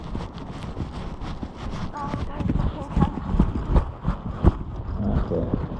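Cavalry horses moving round an arena in half sections at a battle re-enactment, hooves clip-clopping in an irregular stream of close, moderately loud thuds, with wind noise and occasional voices in the background.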